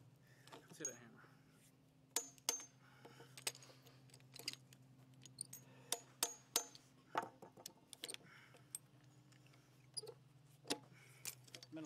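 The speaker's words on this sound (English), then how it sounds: "Let's hit a hammer." Sharp irregular taps and knocks of a hammer on a nail during nail work, scattered clicks spaced a second or so apart over a low steady hum, with quiet voices between the strikes.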